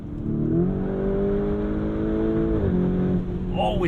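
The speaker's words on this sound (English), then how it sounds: "Now let's switch into sport drive mode. It's going to open up the baffles and the exhaust a little bit more." A 2021 Lamborghini Urus engine pulls hard in sport drive mode with the exhaust baffles opened, a loud, steady rising drone that dips briefly at a shift and climbs again, with a voice exclaiming near the end.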